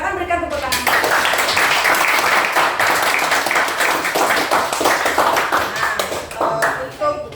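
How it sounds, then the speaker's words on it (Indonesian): A classroom of students claps together after a pupil presents a lesson conclusion, dense steady applause filling about seven seconds, fading slightly near the end. "Silakan berikan tepuk tangan."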